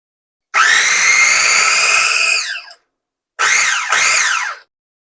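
A kitchen appliance whirs loudly as it grinds vegan stir-fry ingredients, one long burst of about two seconds, a pause, then two shorter pulses in quick succession, with a rising and falling motor whine.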